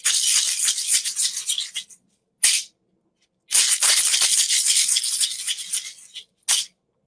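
A rattle shaken vigorously in a ritual, giving dense, bright seed-like shaking in two long bursts, each followed by a brief sharp flick, loud and close with no talking.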